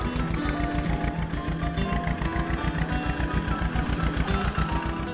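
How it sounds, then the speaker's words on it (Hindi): A tractor's diesel engine running, a steady rapid mechanical knocking pulse with a droning hum, continuous and fairly loud at close range. "कहकर वो ट्रैक्टर लेकर अपने घर गया।"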